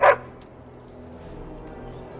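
A single short, sharp dog bark from the fantasy role-playing game Dragon Age: Origins, loud and close at the very start, followed by a quiet, low background hum.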